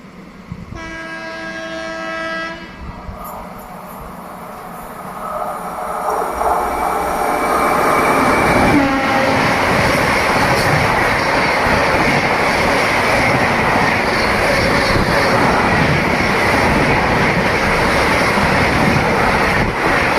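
Uttar Sampark Kranti express overtaking the Hoshiarpur Express at about 130 km/h on the Jalandhar–Delhi line: a horn blast, then a loud, sustained roar of wheels and passing coaches that swells and stays close.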